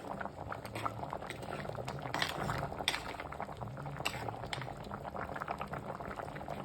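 A pot of fish curry with tamarind simmers on the stove, a close, continuous bubbling and popping with occasional small metallic clinks.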